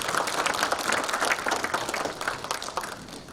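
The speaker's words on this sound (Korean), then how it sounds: "말씀해주신 선생님 여사님께 다시 한번 박수 한번" An audience at a Korean book launch event claps for someone speaker, a full, continuous round of applause that holds steady and fades slightly toward the end.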